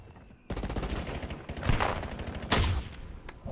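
Rapid bursts of automatic gunfire from the video game Warzone, close and loud, with a sharp volley around the midpoint and scattered follow-up shots over a steady battle din.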